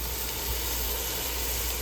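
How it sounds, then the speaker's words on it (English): Asparagus sautéing in broth in a pan, a steady dense sizzle and hiss that continues evenly throughout at close range. "you can just keep adding a little bit of broth to keep kind of sauteing them up"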